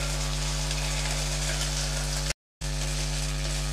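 Ginger, garlic and chili paste frying in a pan with onion, a steady close sizzle that runs continuously, broken only by a brief gap of silence before resuming.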